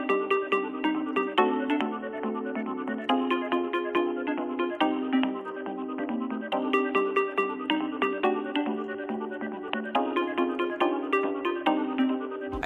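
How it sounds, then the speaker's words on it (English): Luigi's phone ringtone from the game Luigi's Mansion 3, a bright, bouncy electronic melody that loops steadily with a clear beat and plays on its own. "Even Luigi's ringtone is an absolute bop."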